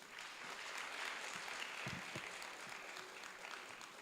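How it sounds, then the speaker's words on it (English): A crowd applauds steadily, a dense wash of clapping hands that holds at an even level throughout. "Please give yourself a round of applause."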